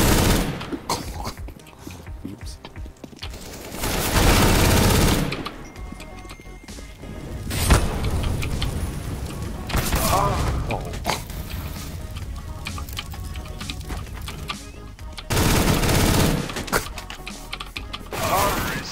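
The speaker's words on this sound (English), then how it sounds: "once you start shooting, you can't stop shooting until your clip's empty" Loud bursts of automatic gunfire from a CS:GO competitive match, several sustained volleys separated by short quieter gaps.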